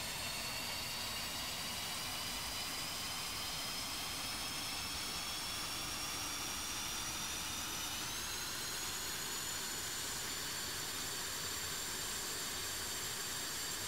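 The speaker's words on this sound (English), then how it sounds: "we got the engine started" Jet engine of an F-5 fighter in the DCS World flight simulator running steadily after startup, a continuous whining roar with a high turbine whine that rises slightly in pitch partway through, no talk.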